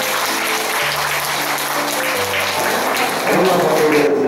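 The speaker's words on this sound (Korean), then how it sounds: "큰 박수 부탁드리겠습니다." An audience at a Korean watercolor association exhibition ceremony claps for the artist's greeting, a steady crowd applause mixed with sustained background music tones and a slight swell toward the end.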